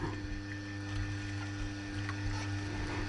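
A juicer presses strawberries and ginger, giving a faint, steady mechanical whirr with a low hum and soft grinding clicks throughout, close by and with no talk.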